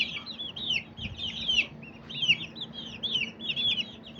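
Iraqi Arab chickens cluck and call repeatedly in a rhythmic series, fairly close, over a faint steady hum.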